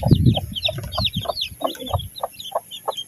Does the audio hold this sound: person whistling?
no